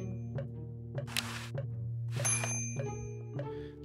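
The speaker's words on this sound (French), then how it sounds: "On peut éventuellement appuyer sur la sonnette" Doorbell chimes on a door in Day of the Tentacle Remastered, several clear ringing tones repeating over a steady background music drone, with short bursts of noise between them.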